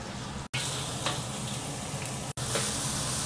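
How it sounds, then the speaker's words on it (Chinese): Shredded carrot is stir-fried in a wok with fish noodles for a Chaozhou family lunch, giving loud, continuous sizzling with scraping stir strokes and two brief cuts in the sound. "先把这个胡萝卜丝炒熟，加点葱段进来。"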